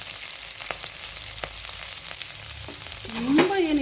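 Chopped onion fries in a pan with a steady sizzle and several sharp clicks of a utensil stirring, close by, ending with a brief squeaky scrape, no voices.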